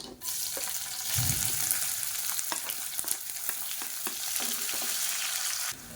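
A large onion sliced lengthwise sizzling loudly in hot oil, a continuous crackling fry with a few scraping stirs, close up and without talk.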